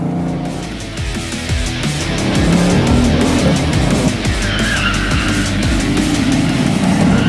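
A Bugatti Veyron drifting on a race track, its engine roaring steadily while tires squeal and skid through sustained slides, loud and continuous with no talk.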